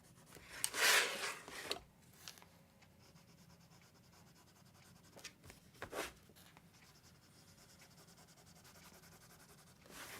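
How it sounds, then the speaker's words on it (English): A colored pencil cross-hatches on paper, laying down horizontal and then vertical strokes in short scratchy bursts. One strong close rub comes early, then fainter strokes follow in a quiet room. "I'm doing a cross hatching. I'm going across horizontally and then going vertically."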